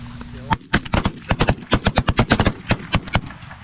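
A volley of shotgun blasts from several hunters during an early-season goose hunt, over a dozen sharp, loud shots in rapid irregular succession close by, with voices briefly heard.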